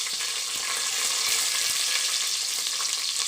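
Green chilies and a bay leaf fry in hot oil, a steady, close, bright sizzle with faint crackles and no pauses or voices.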